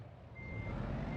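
A truck in American Truck Simulator backs up with its reversing beeper sounding over a steady low engine rumble, a short continuous tone heard close and moderately loud.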